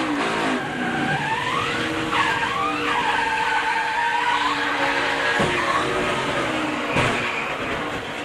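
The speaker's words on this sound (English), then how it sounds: "You heard him playing with the throttle." A NASCAR race car engine revs up and down as the throttle is worked, pitch rising and falling in sweeps, with brief tire squeals, close and loud.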